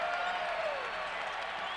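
Basketball arena crowd at a 2009 Bradley Braves home game against the Creighton Bluejays, a steady, dense roar of cheering and clapping with a thin whistle-like tone sliding through it.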